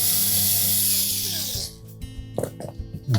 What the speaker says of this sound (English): we simply need to remove the 3 mounting screws for the motor